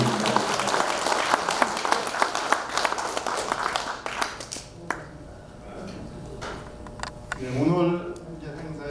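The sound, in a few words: applause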